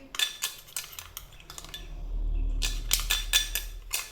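Spoon stirring a turmeric face pack mixture in a small bowl, a series of close, sharp scrapes and clinks against the bowl with a brief pause in the middle, no talking.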